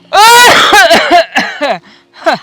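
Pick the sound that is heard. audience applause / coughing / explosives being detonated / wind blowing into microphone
coughing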